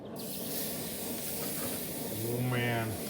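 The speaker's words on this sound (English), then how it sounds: "we're gonna sear these up on the Pellet Pro portable pellet grill" Steaks sizzle and hiss loudly on a Pellet Pro portable pellet grill running hot, a steady searing spray throughout, with a brief low rumble near the end.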